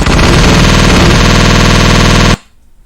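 Rapid, dense automatic fire from a video game turret set to a very short firing interval, loud and continuous for over two seconds before cutting off abruptly into near silence.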